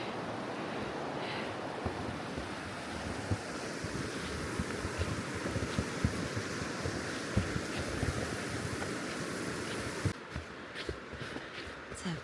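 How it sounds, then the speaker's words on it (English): Savage River in a state park in winter, heard from a bridge as a continuous broadband rush of flowing water, fairly loud and steady, with some wind buffeting the microphone and no talking. "a beautiful walk with the sound of the river"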